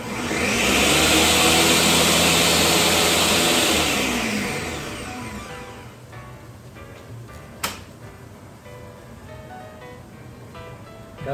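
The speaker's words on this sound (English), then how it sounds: "Got them in the blender." A blender whirs loudly for about four seconds as it mixes eggs for a zucchini, mushroom, onion and tomato frittata, then spins down, leaving quieter kitchen noise and a brief clatter.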